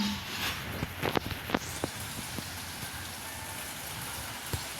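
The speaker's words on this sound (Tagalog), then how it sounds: "Pumapatak na naman ang ulan sa bubong ng bahay." Rain patters steadily on a house roof during windy weather, a constant hiss broken by a few louder drips and taps near the start.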